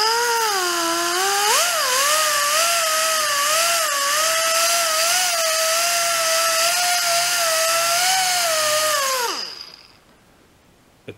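A small 2-inch DA sander from Harbor Freight whines loudly and steadily for about nine seconds with a slight pitch wobble early on, then spins down and falls quiet, with no talking over it.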